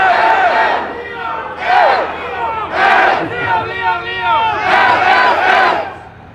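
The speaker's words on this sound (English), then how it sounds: "I thought you were cheering my name there for one reason." A large crowd at a public talk on free speech and an Irish hate speech bill chants and cheers loudly in repeated surges, with rhythmic group shouts rising and falling across the whole stretch.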